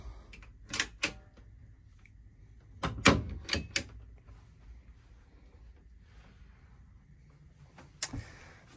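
Louvered cabinet doors in a guest cabin aboard a 2020 Beneteau Swift Trawler 50 yacht opening and closing, heard as a few sharp wooden clacks and knocks in separate bursts with quiet gaps between, close by and without talk.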